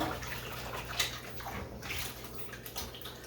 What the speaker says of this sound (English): And then I'm going to wash my hands too.